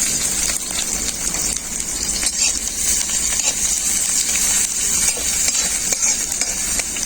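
Black cumin, radhuni and crushed garlic fry in hot oil for a jute-leaf curry, giving a steady, even hissing sizzle with no pauses throughout.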